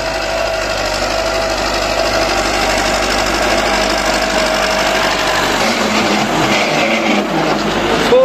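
A tractor engine runs continuously in a rural Punjab, Pakistan setting, a loud, steady mechanical rattle and drone that holds for several seconds with no break.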